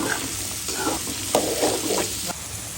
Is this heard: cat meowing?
no